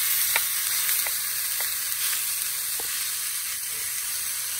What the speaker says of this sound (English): Hear that nice sizzle